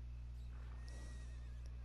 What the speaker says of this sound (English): Hey, good looking horse there.